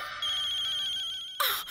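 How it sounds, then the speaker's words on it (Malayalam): A telephone rings indoors with a steady, close electronic tone that breaks into a louder burst near the end. No voices are present. "ഫോൺ അടിക്കുന്നത് കേട്ടില്ലേ?"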